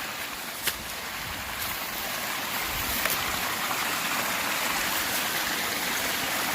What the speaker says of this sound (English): That's the thing about that rushing water.